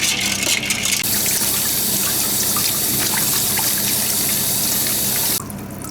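Tuna skin rinsed under a running kitchen tap, a steady close splash and gush of water with shifting trickles, cutting off abruptly at the end.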